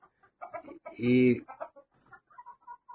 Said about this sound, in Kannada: ಕೋಳಿ ತಳಿ ಜಾತಿ ನಿಕೋಬಾರಿ ಚಿಕನ್ ಅಂತ.